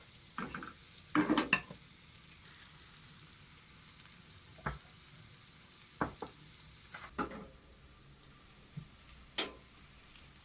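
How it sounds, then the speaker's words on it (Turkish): Anchovies frying in a pan give a soft sizzle underneath a handful of sharp clicks and knocks spread unevenly across the stretch, as if utensils tap the pan while the fish are turned. Quiet and close, no voices. "3-4 dakika arayla ters döndürerek pişiriyoruz."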